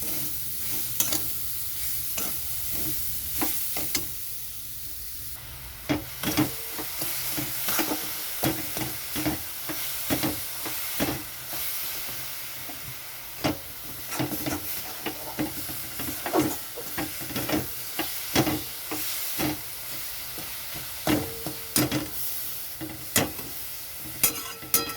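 Grated coconut and sugar, one bowl each, stirred in a pan into a sweet filling, with steady scraping strokes and a soft sizzle running throughout, no voices.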